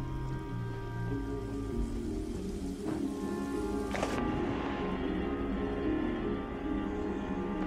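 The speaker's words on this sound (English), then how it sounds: "Oh, yo, there's waterfalls." A steady, dense rush of falling water from a waterfall in the underwater game ABZÛ, a continuous broadband wash with a low hum beneath and a brief splashy swell near the middle.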